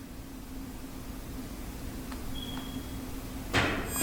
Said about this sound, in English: That was a full knock.